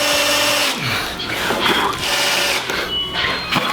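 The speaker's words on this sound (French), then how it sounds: "je vais prendre une fraiseuse pour creuser, mais pas percer" A router mills a shallow recess for a bolt in a workshop, its loud, close whine rising and dipping in pitch as it bites into the material, with a voice talking over part of it.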